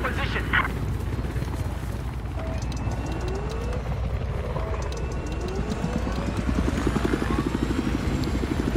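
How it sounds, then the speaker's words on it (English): A helicopter flies in a video game, its steady rotor chop sitting under a loud talking voice, with engine whines sweeping up and down in the background. "I have spotted a hostile helicopter just east of your position."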